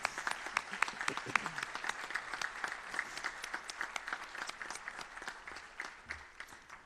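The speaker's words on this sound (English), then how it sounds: "Can you join me one last time in applause, or one additional time?" A room full of people applauds at a high school dedication ceremony, giving a steady crackle of many hands clapping that holds fairly evenly and then thins slightly toward the end.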